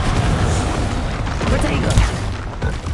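Confringo fire spell explosion in Hogwarts Legacy, heard as a dense, loud blast with low booming rumble amid ongoing magical combat effects, with a spoken voice present.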